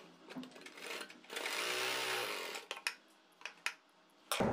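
An electric sewing machine stitches a folded fabric edge on a collared kurti, a sustained mechanical whir for about a second and a half, followed by short clicks and taps, fairly quiet and close.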